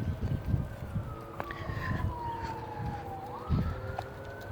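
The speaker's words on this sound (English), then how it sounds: "You got sirens and barking dogs." A siren from an emergency vehicle wails in the distance on a sunny outdoor walk, its tone gliding slowly down and then stepping back up, steady over several seconds beneath wind and low street rumble.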